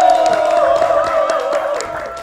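A club crowd cheers and applauds for the DJ, a dense wash of clapping and whoops under a loud sustained musical tone, steady through the clip.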